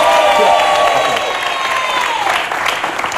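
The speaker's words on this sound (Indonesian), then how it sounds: "Tepuk tangan sekali lagi untuk semua." Studio audience applause on an Indonesian television talk show, loud sustained clapping and cheering from a crowd that fades slightly toward the end.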